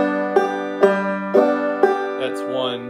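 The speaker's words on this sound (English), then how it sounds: "you don't want to be just doing all three parts of the Bum-Ditty with equal time allowance for each" A banjo plays a bum-ditty strum pattern with each of its three parts given equal time, producing an even plucked-and-brushed rhythm in repeating groups; it is close, clear and unaccompanied.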